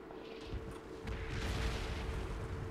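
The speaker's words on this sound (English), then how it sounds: "Here goes artillery." Video-game artillery barrage rumbles with deep, overlapping booms and blasts rolling in close, loud and low, building into a sustained thunderous roar.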